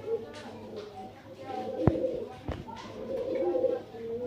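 Pigeons coo softly in low, rounded bursts, with a couple of sharp knocks and background murmuring around them.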